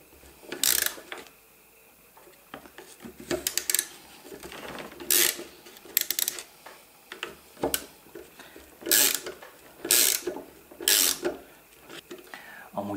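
Wrench loosening the 8 mm bolts holding a cover on a broken-down Skoda Octavia, heard as a scattered series of short, sharp metallic clicks and ratcheting bursts at close range, separated by quieter gaps.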